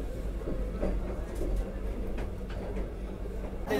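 A Vande Bharat Express train runs at speed, heard from inside an AC chair car as a steady low rumble with faint rhythmic ticks and rattles.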